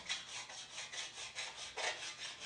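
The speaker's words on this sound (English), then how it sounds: "I use a fine draw file to level the surface a step further" A fine draw file rasps across stainless steel trim clamped in soft-faced bench vise jaws, with steady back-and-forth strokes repeating about every third of a second, close and moderately loud, with no talking.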